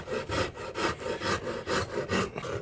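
A Shinto rasp shapes a wooden guitar body in a steady back-and-forth rhythm, each close, gritty scraping stroke repeating about every quarter second.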